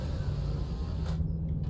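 A mechanical door on an M2 Hercules Starlifter ship in Star Citizen slides open with a low steady hum and creaking whir, then cuts off abruptly near the end, moderately loud, with no speech.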